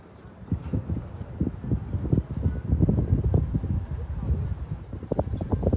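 Strong wind buffets the microphone outdoors on a flooded riverside quay by Ile Saint-Louis in Paris, giving a steady low rumble with gusty bursts throughout, while a person talks over it.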